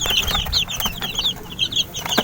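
Rhode Island chickens cluck and chirp in quick, overlapping calls close by, a busy flock sound that continues throughout with faint background rustle.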